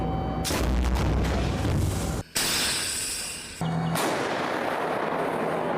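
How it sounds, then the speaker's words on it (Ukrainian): A heavy artillery gunshot booms out near Toretsk, Ukraine, followed by a long rumbling roar that drops away briefly before another loud blast and continued rumble. "Постріл."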